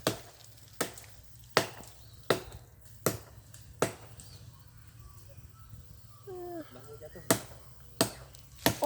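An axe chops into the trunk of a rambutan tree being felled outdoors, sharp woody thuds at a steady rhythm of roughly one per second, fairly close, with a short pause and a brief voice midway.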